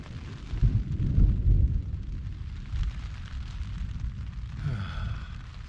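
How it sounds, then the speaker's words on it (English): Thunder from a storm in a high mountain basin on the Uinta Highline Trail, a deep low rumble that swells and then rolls on at length, echoing between the peaks. "The thunder when you're in these basins just rolls forever, just bouncing back and forth between all the mountains."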